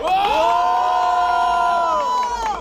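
A crowd at a rap battle cheers and whoops loudly and continuously, with sustained voices and shouts blending into a steady roar.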